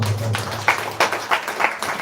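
A church congregation claps during a revival service, with bursts of applause rising and falling in a few quick waves over a brief stretch, mixed with a low background voice.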